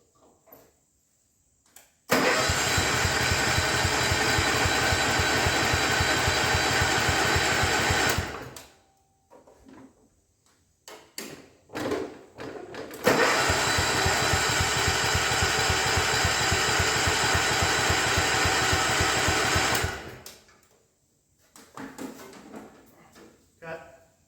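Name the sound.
1972 John Deere 110 lawn tractor engine running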